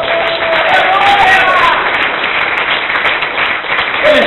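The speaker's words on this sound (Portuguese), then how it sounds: "Batam palmas para o Senhor Jesus." Congregation at an Assembly of God church service clapping hands together, a loud, steady roar of many hands over four seconds with voices rising through it.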